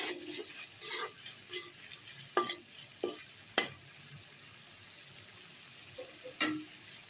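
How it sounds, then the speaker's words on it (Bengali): Spices and fish fry in a pan, giving a soft sizzle broken by several sharp stirring scrapes and clinks of a utensil against the pan at close range. "এখন এগুলা সব কিছু অ্যাড করে ভেজে নিব"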